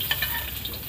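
Chopped onion frying with garlic in oil in a kawali, stirred with a utensil: a short burst of steady sizzling with a few scraping strokes against the pan.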